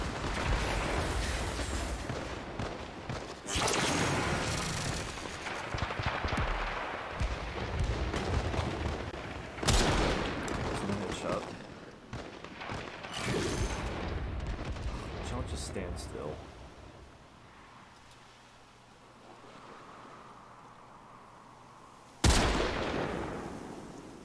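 Sniper rifle gunfire in a video game about headshots from 100 m away: sharp loud cracks at irregular intervals amid rumbling battle noise, with a voice talking between the shots.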